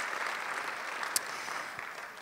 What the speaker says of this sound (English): So a round of applause, please, to them